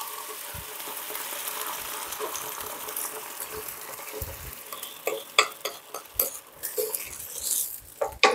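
Vegetables stir-fried in a wok for sweet and sour pork sauce, with a steady hiss of frying that turns into a series of sharp scraping and clanking tosses toward the end, no voices.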